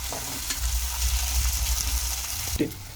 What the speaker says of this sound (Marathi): आता टोमॅटो टाकत आहोत। आता यांना छान परतून द्यायचं, कांद्याचा कलर तांबडा होतोपर्यंत।